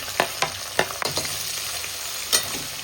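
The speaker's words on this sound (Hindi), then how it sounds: "ये 3 मीडियम साइज के प्याज थे, इनको हम करेंगे फ्राई।" Three medium onions fry in a pan for chicken biryani, a bright close sizzle punctuated by several sharp spatula clacks and stirring scrapes.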